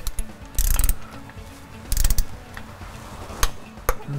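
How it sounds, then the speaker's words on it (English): A torque wrench tightening the bolts on a Banks differential cover of a 2005 Dodge Cummins, heard as close, sharp bursts of ratcheting clicks separated by pauses, with a few isolated single clicks after. "That's how we're gonna torque it down."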